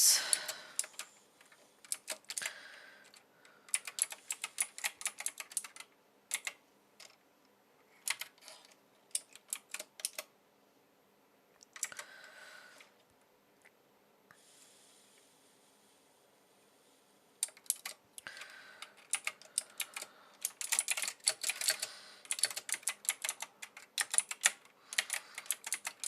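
Code being typed on a computer keyboard, quick irregular clatters of keystrokes in bursts separated by quiet pauses, close but fairly soft, with no speech over it.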